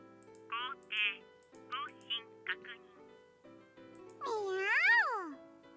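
A cat meows in the visual novel game You and Me and Her: A Love Story: several short, bright meows, then one longer drawn-out meow near the end, all over a soft, steady music bed.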